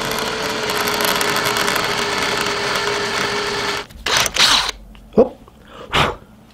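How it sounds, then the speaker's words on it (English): A drill bites into a soft brass carburetor plug with a continuous buzzing whine for several seconds. The motor then stops abruptly, leaving a few short bumps and clicks. "So we're just going to drill into this plug ever so slightly."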